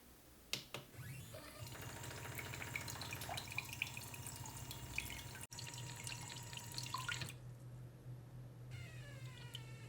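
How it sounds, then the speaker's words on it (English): A DIY scale-based liquid filling machine runs faintly at low speed, its pump whirring steadily under a thin trickle of pouring liquid before cutting off near the end, with no voices. "machine starts again at very low speed and fills the remaining amount of the liquid"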